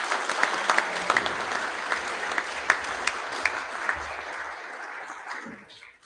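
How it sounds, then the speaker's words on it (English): Audience applause for students at a school prize giving assembly, a moderate crowd clapping steadily with a few sharper nearby claps, then fading out near the end. "Please, a round of applause for these students."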